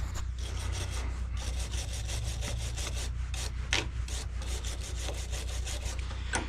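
A soft brush scrubs an electrical connection, making steady rapid back-and-forth rasping strokes close to the mic, continuous and fairly loud over a low constant hum, with no talking.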